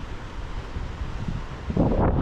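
Wind blows steadily across an island hillside and buffets the microphone with a low, rumbling roar that swells louder near the end.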